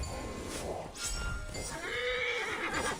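A horse in the Assassin's Creed Origins video game whinnies loudly and close, a rising then falling neigh over soft hoof clops and game ambience.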